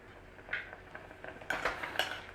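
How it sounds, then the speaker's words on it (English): Peas stirred in a pan with a utensil, a series of quiet light clinks and scrapes that grow busier toward the end, close and alone. "So just give your peas a little stir through."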